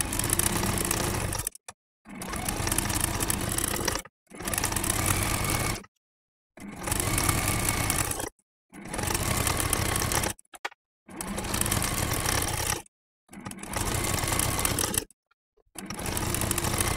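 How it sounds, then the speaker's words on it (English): A sewing machine free-motion stitches down flower appliqué on a mini quilt, running in steady bursts of about two seconds each, separated by brief silent pauses, with no talking. "Y'all have seen me do free motion stitching quite a bit"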